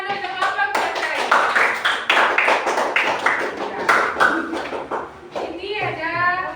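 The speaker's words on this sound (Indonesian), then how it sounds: "Beri tepuk tangan dulu untuk kelompok belajar ini." Classroom clapping for a study group during a coding and artificial intelligence lesson, several pairs of hands patting out an uneven rhythm with children's voices and a teacher chattering over it throughout.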